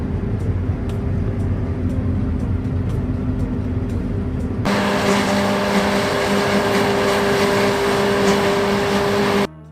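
A John Deere combine harvester with a 13,600 cc, 579-horsepower JD14X engine and a 7.6-meter RA25 header working a field, its steady loud drone and whine persisting, growing fuller and harsher halfway through before cutting off.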